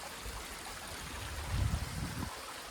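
Spring water on a Himalayan mountain meadow runs steadily from its source, a constant close stream of rushing and trickling water that swells briefly in the middle, with no one talking.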